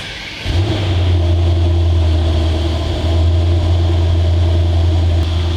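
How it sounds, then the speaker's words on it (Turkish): A Mercedes-AMG GT 63 S sports car engine fires up by push-button start and settles into a loud, steady idle with a deep droning hum, close by, no voices. "Engine Start tuşuna basarak aracımızı çalıştırıyoruz."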